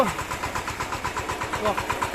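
A tractor engine chugs steadily in a muddy field, with a rapid, even pulsing rhythm, close and continuous throughout.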